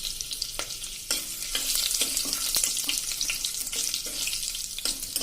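Whole spices, cinnamon, cloves, chillies, carom seeds and a pinch of asafoetida, crackle in hot oil for a Mehsana-style green pigeon pea totha, a bright steady hiss punctuated by stirring scrapes and taps, moderately close.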